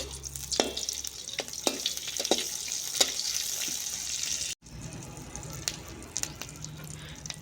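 Butter, white oil and onion fry in a hot kadai with a soft, continuous sizzle. Scattered clinks of stirring sound through it, and there is a brief cut partway through. No one speaks.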